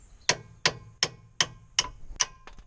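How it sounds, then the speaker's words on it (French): A small hammer taps metal six times in an even rhythm during suspension control arm replacement on a 2014 Kia Cee'd, each blow a sharp, ringing strike, close and clear with no talk. "Petit marteau."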